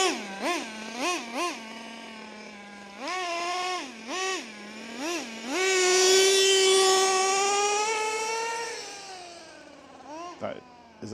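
A nitro-powered RC truck engine, just repaired, screams through short throttle blips, then holds a loud, high, sustained whine at full throttle before dropping off and giving a final quick rev.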